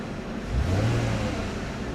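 A Porsche engine idles and then rises briefly in a short, moderate rev as the gas pedal is pressed, before settling back to a steady hum.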